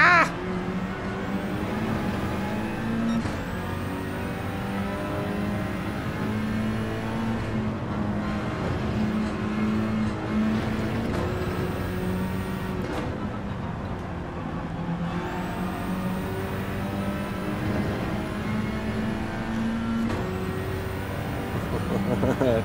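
Suzuki Swift engine racing in Gran Turismo 7, a steady droning motor note with repeated rising gear-change sweeps, running loud and continuous throughout.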